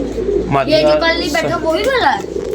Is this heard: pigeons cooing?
yes